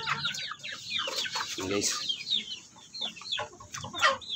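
Backyard flock of pet chickens in a small coop, clucking steadily and near throughout, with someone briefly talking over them.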